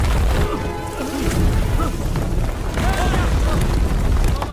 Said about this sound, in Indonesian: Di hari ke-21, terowongan kantong gas pun meledak.